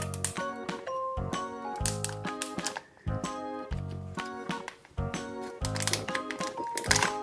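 Kinder Joy egg foil wrapper being torn open and crinkled by hand, a dense run of close crackling, rustling bursts with brief pauses, no talking.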